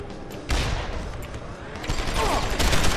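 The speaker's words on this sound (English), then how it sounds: "I don't know who's shooting at me." Enemy heavy weapons gunfire in Deus Ex: Human Revolution – The Missing Link, a dense burst of shots starting half a second in and swelling again near the end over a busy game soundscape.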